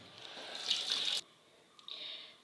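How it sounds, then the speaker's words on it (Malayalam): Running tap water splashes over raw chicken pieces being washed in a sink, a steady close gush that cuts off abruptly, then resumes more softly after a short pause. "ഇനി നമുക്ക് നല്ലോണം കഴുകിയെടുക്കാം."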